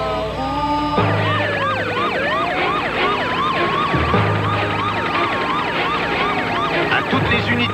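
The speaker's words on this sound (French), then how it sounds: "ici le commandant de brigade en voiture bleue avec les feux et la sirène" Wailing police car siren sweeping up and down continuously, loud and close, layered with a second siren and steady low vehicle rumble with periodic engine surges.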